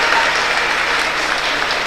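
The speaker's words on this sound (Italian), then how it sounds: "applausi per loro" Steady applause from an audience at a youth under-13 sports award ceremony, as young players pose for the official group photo; continuous, dense clapping filling the whole moment with no voices.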